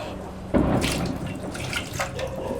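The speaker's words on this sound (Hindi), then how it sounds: "हाथ है जो पानी है उसमें हाथ धो भगोने में।" Hands are washed in water inside a cooking pot, giving a close splashing and sloshing with irregular swishes and soft trickles that continue throughout and briefly get louder, with no voices.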